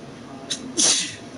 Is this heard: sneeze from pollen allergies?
yes